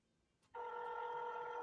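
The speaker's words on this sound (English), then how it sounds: "Now it's ringing." A telephone ringing, starting abruptly about halfway through after near silence with a faint click, then holding as a steady, loud electronic ring with bright tonal partials to the end.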